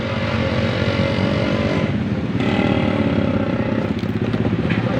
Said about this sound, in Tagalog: ito po yung pinakamaraming motor dito sa lugar namin